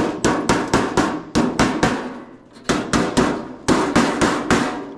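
Repeated sharp metallic hammer strikes seating the seam of a sheet metal ductwork 90-degree fitting, in quick bursts of several blows separated by short pauses, loud and close.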